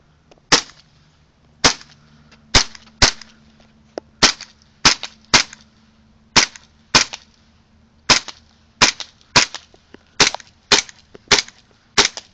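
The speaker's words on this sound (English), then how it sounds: "It's blowback, and so we're going to aim at that target right there." An Airsoft Ignite 1911 blowback pistol fires BBs at a target, about eighteen sharp, loud snapping shots spaced irregularly, some in quick pairs, with no talking.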